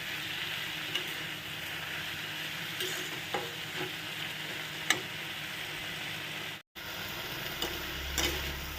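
Jute leaves frying in oil and being turned with a spatula, a soft steady sizzle with occasional light taps on the pan, briefly cut off near the end before resuming, no speech.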